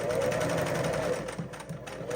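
A sewing machine stitches a stuff sack for hiking and camping, giving a steady close whirring hum that turns to a quicker, uneven rattle of individual stitches toward the end.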